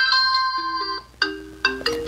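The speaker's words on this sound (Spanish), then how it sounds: "Contarás con 4 diferentes ringtones a escoger" Watch 9 Mini smartwatch ringtone playing from its small speaker: a clear electronic chime of sustained tonal notes followed by several bright, short repeated tones, loud and close with no talking.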